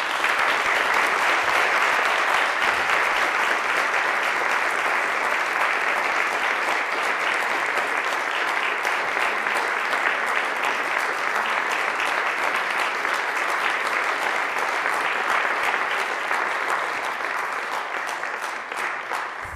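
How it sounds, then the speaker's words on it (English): Sustained applause from an audience at a public government meeting, steady and dense for about twenty seconds, tapering slightly at the end with no one talking over it. "Give her a round of applause."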